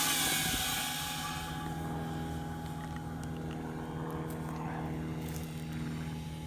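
An xCraft Maverick drone spins up for takeoff, its propellers giving a steady whirring drone with a strong hum and tonal whine that holds level throughout, close by and with no speech.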